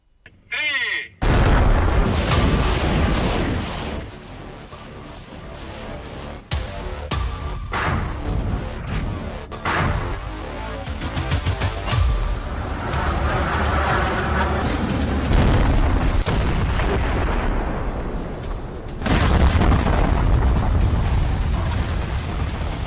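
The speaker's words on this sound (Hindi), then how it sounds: "यूक्रेन के खिलाफ सबसे बड़ी स्ट्राइक, यूएन तक पहुंची धमाके की गूंज" Explosions from Russian strikes on Ukraine boom and crack across a long stretch, heavy bursts and rumbling blasts at irregular intervals, loud and harsh, with stretches of dense noise between them.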